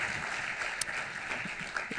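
At a public talk on overconsumption, a soft, even wash of audience applause sounds distant and steady, with a few faint individual claps.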